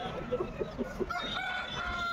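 Roosters and chickens at a busy open-air Friday poultry market, with clucking and a crowing call rising above a noisy background of people and activity.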